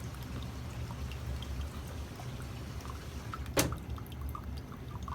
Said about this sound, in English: get the sump pump to trip and capture the sound